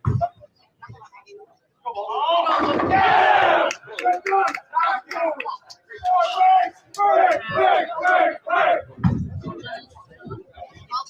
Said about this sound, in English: most of the cheering that you can hear is from the pair right next to it